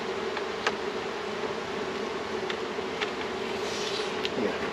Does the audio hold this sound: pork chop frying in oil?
no